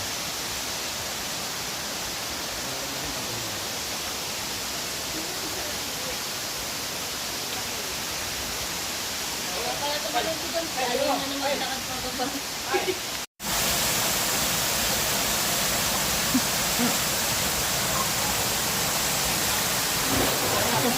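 A waterfall at Aliw Falls in Luisiana, Laguna gives off a continuous broadband rush. Voices chatter faintly under it partway through, then a sudden cut leaves the roar steady and louder.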